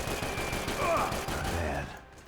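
Rapid bursts of gunfire from a firefight against Brazilian army soldiers in the video game Max Payne 3, dense and loud for a couple of seconds, with a voice mixed in underneath.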